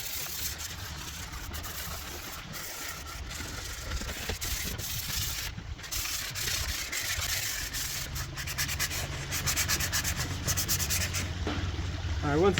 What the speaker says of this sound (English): Now I'm gonna take a sanding block and sand it all nice and smooth